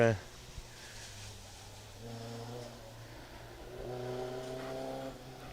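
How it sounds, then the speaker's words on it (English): A rally car engine drones at a steady pitch coming down a hillside during a rally stage, then revs higher toward the end, moderately close, with talking over it. "the car coming down the hillside behind us"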